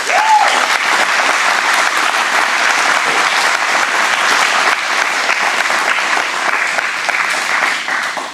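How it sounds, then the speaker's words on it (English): A large audience at a community closing ceremony for a hometown heroes event gives a round of applause: dense, loud, sustained clapping from many hands that holds steady throughout and tapers slightly at the end. "so I think we owe them a round of applause."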